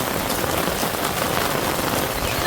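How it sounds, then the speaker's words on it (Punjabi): Heavy monsoon rain in Punjab pours steadily, a dense, loud, even hiss of drops drumming on surfaces without pause. "ਮੀਂਹ ਦੇ ਬਹੁਤ ਜ਼ਿਆਦਾ ਤੇਜ਼"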